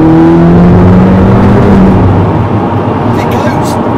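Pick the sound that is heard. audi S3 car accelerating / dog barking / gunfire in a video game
audi S3 car accelerating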